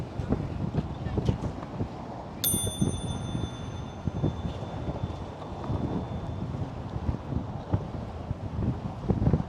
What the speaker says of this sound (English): gotta ring my bell again